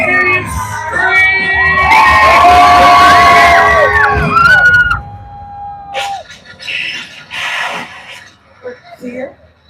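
A crowd at a Disney live show screams and cheers loudly for several seconds over a music bed, then breaks off, and scattered voices and shouts follow.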